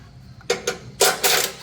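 A ratchet turns a 15 mm mount bolt on a Ford Raptor R front bumper: four quick, close bursts of clicking in two pairs, the second pair louder and longer, with no talking.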